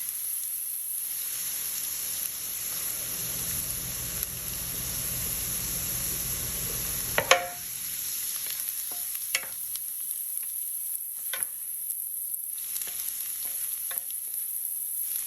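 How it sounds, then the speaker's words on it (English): Vegetables frying gently in a pan for a King Ranch casserole give a steady soft sizzle, and a spoon stirs them in a few scraping strokes partway through. "I'm just going to have to be really careful about stirring them and making sure that they don't get brown."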